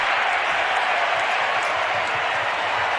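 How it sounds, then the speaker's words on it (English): Basketball arena crowd at a Celtics versus Timberwolves game cheering after a missed shot, a dense, steady roar of many voices holding at even loudness for a few seconds. "there was a cheer there because they just won free yogurt by that miss"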